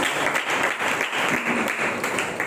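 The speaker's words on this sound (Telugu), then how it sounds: "చప్పట్లు కొట్టేస్తున్నాం." Congregation clapping together during a Sunday church worship service, a steady dense patter of many hands filling the room without a break.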